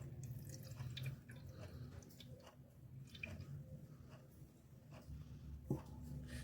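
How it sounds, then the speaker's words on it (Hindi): Water poured onto bread slices in a kitchen, giving a soft, steady wet trickle and squishing close by, with faint drips and a small splash near the end, and no voices. "यहाँ पे हम डालेंगे पानी।"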